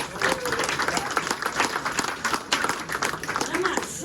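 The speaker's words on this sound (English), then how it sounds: "So first of all, let's have a big round of applause for Matt Marston, folks." A small crowd applauds at a speedway press conference after a Belle Vue Colts versus Leicester Lion Cubs meeting, giving brisk, moderately loud clapping throughout with faint voices underneath.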